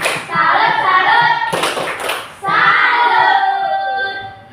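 Children's rhythmic hand-clapping game 'tepuk salut' in an elementary school classroom, with bursts of clapping and chanted voices in two phrases separated by a short pause.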